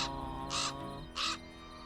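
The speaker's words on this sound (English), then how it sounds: "The raven flew out of a crack in the rock." Raven flying out of a crack in rock among ruins, giving two hoarse, croaking calls about half a second apart over a low steady background, fairly faint and distant.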